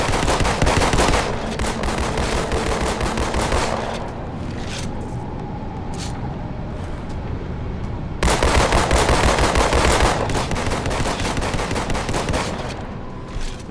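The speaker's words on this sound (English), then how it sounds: "when you like rapidly fire one weapon in one hand and you start firing the other one in the other hand, it becomes really muffled" Dual-wielded weapons fire in Halo Master Chief Collection with a sound bug: dense rapid gunfire, loud at first, turns dull and muffled for several seconds, then returns to full loud bursts.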